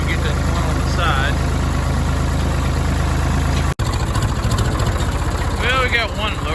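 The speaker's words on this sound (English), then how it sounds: "Tractor fired right up." A Farmall 1206 tractor engine runs steadily at a loud, close idle, a deep continuous throb that carries on alone with only a brief dropout partway through.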